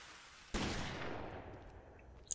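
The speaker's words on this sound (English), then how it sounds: "I hear gunfire." Gunfire in the video game Rainbow Six: Vegas 2, a single sharp report that rings out in a long fading tail, with a faint click near the end.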